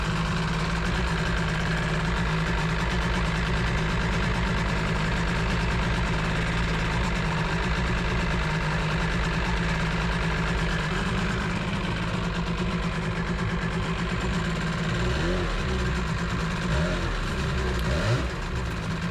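Sea-Doo personal watercraft engine with rebuilt dual Mikuni carburetors idling steadily, a loud, continuous low engine drone with a faint rise in revs near the end, and no talking.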